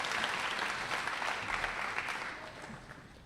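Sustained applause from a banquet audience at a North Scott agricultural program spring banquet, honoring the junior high Ag CSI team; steady, fairly loud clapping throughout that tapers slightly toward the end.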